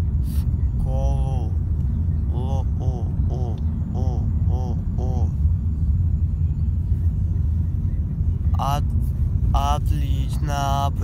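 A car drives along a road on the way to school, giving a steady low rumble of engine and tyre noise inside the cabin for the whole stretch while a voice speaks in short bursts over it.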